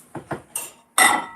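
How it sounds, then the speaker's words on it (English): Glass is tapped three times in quick succession with light, close clinks, then struck once more with a louder, ringing chime that hangs briefly; no one speaks. "don't tap glass"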